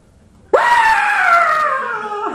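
A voice lets out a long, loud imitated scream, a sustained wail that starts suddenly after a moment of quiet and slowly fades near the end.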